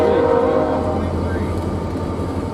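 A BNSF freight train rolling past close by, a loud continuous rumble of wheels and wagons with a brief tonal whine at the start, while a voice speaks over it.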